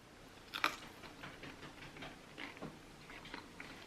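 Bacon bitten and chewed during a taste test, a sharp crunchy bite followed by soft, irregular chewing crunches, close and quiet with no talking.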